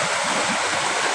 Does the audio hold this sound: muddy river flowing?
yes